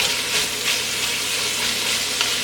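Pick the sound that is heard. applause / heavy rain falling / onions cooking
onions cooking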